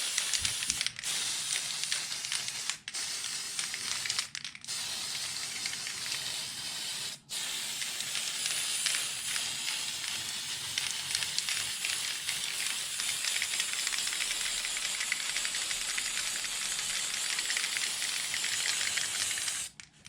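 Aerosol spray paint hissing steadily onto an Arrma Limitless RC car body, laid on heavier in the wheel wells, with short breaks between passes and near continuous bursts in the second half.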